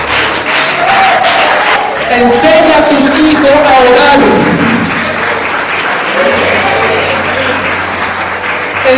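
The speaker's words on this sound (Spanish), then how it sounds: "Denle un fuerte aplauso al que viene." Loud congregational applause fills a church service, with a preacher's voice speaking over the clapping throughout.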